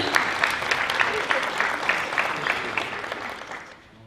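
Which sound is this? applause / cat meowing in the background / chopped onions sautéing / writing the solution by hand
applause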